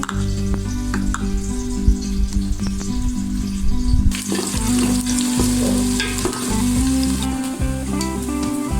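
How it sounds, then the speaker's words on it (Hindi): Onions frying in oil in a pan for a lobia (black-eyed bean) curry, giving a dense, continuous close sizzle with occasional stirring clatter, loud and steady throughout with no talking. "एक पैन में हमने ऑयल डाल लिया था और इसमें अब हम प्याज डाल लेंगे। प्याज को हम हल्का ब्राउन कर लेंगे।"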